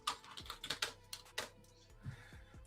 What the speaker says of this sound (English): I'm typing in the back chat.